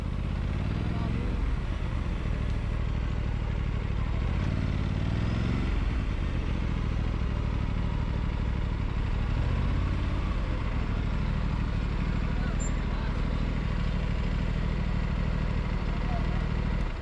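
A motorbike's engine idles steadily at a petrol pump while it stops for refuelling, a loud, continuous low rumble running throughout, with a faint voice in the background.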